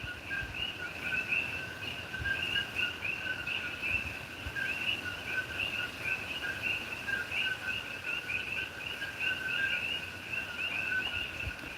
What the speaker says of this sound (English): So here it's just the one, the coqui.